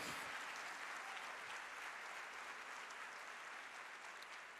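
Congregation applause during a church sermon, continuous dense clapping from a crowd, faint and fairly distant, fading slightly near the end.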